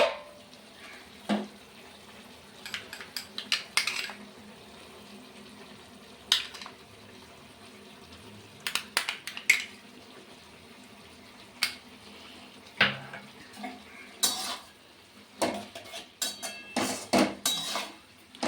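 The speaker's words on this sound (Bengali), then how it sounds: "এবার আরেকটু আটাটা দিয়ে আমি নেড়ে দিলাম। বেশ ভালো করে।" Flour paste gets stirred into spinach curry in a pot, bursts of metal spoon clatter and scraping against the pot separated by quiet pauses.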